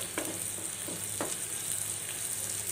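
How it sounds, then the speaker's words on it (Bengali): Dried red chillies frying in hot oil in a pan, a steady close sizzle with a few soft stirring scrapes and clicks, no talking. "কটা শুকনো মরিচ ভেজে নিলাম"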